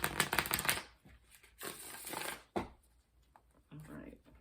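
A deck of tarot cards is shuffled in quick riffling bursts, loud at the start and again midway, with softer card handling and faint talk between them.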